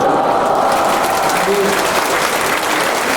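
A church congregation at a summer retreat for adults claps together in continuous, dense applause, loud and close from start to finish, with a faint voice briefly showing through underneath.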